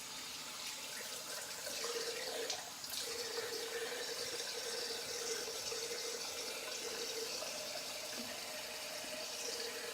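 Tap water runs steadily into a bathroom sink during a single-edge razor face and head shave, a continuous close hiss with a brief splash of hands in the stream.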